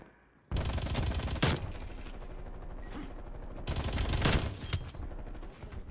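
Stoner 63 machine gun in Call of Duty Cold War fires in two long sustained automatic bursts with a brief gap between them, loud and dense, starting after a short quiet lead-in.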